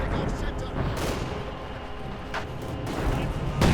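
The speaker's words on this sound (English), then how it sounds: "More artillery fire here." Artillery shells burst in a Company of Heroes 2 match, a few booming impacts and crackling blasts scattered over a dense battlefield rumble while a caster talks over them.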